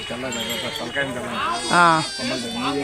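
Sheep bleat close by, one wavering call rising louder in the middle, mixed in with a person talking over them.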